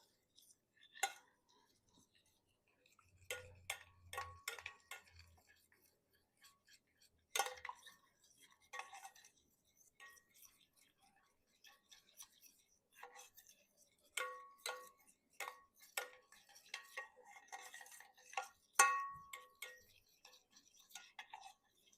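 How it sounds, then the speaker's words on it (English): A spoon clinks and scrapes against a bowl while stirring a keto chocolate glaze, quiet irregular ticking strokes in bursts with soft pauses, close and faint. "we'll just take a spoon and get it all mixed in together"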